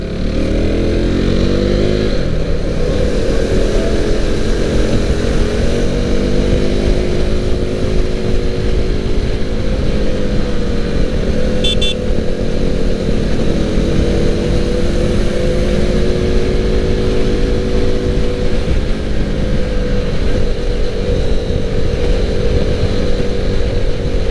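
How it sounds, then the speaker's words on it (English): Steady, loud engine roar from a Suzuki Hayabusa motorcycle being ridden at speed, with the engine note rising and falling as other big motorcycles are passed; no talking. "it's a nice feeling going past a couple of big motorcycles."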